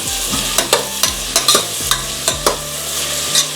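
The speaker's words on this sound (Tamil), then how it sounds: "சும்மா லைட்டாக சும்மா நான் இப்படி வதக்கிறேன்" Chicken sautéing with onion and tomato in a pan for a country-style chicken curry: a steady sizzle broken by repeated sharp scrapes and clacks of a spoon stirring, close and loud, with no talking.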